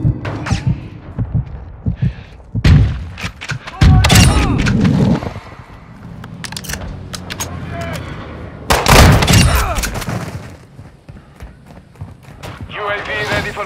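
Gunfire in the video game Call of Duty: Modern Warfare 2, scattered shots and heavier bursts amid battle noise, with voices talking throughout.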